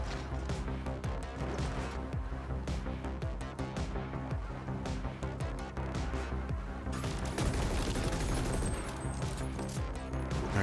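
Enemy gunfire in the video game The Ascent, dense rapid shots rattling almost continuously and loudly, with a harsher, brighter stretch of firing near the end.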